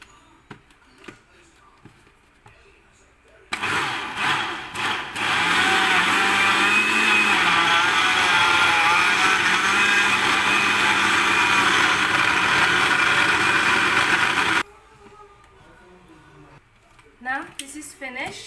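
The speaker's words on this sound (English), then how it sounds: "And now, let's grind this all together." Electric blender grinding mango, yogurt and other lassi ingredients, a loud steady whirring roar of about eleven seconds, with people talking before and after.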